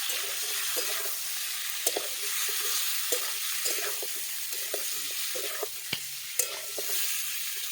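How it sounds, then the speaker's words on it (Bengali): Pieces of shankar fish (stingray) fry in hot mustard oil in a pan, a constant close sizzle with occasional soft clicks and scrapes from stirring. "তেলটা গরম হয়ে গেছে, এবার আমি মাছগুলোকে ভেজে নেব।"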